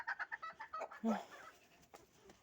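A hen clucking in a rapid rhythmic series close by, followed by a louder squawk and a few scattered softer clucks.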